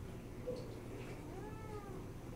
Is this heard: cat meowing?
yes